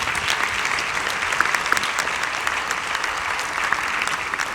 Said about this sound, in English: please give table number 29 a warm round of applause as they stand up